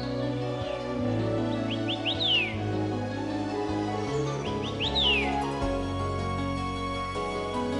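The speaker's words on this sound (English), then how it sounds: "We walk a distant path, cheered by the bird songs above." Birds sing in a forest of Basian Mountain National Forest Recreation Area, with repeated bright chirps and descending whistled phrases rising over a steady layer of low background music.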